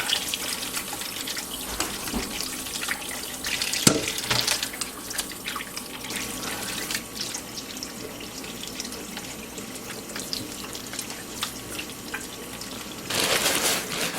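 Tumbled rocks are washed under a running tap, a continuous splash of water with occasional knocks and clatters of stones, heard close up with no voices.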